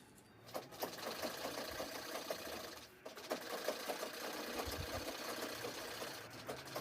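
Sewing machine stitching the second side seam of a bag made from a saree pallu, running as a steady, fast mechanical whir with rapid needle ticks and a brief pause near the middle.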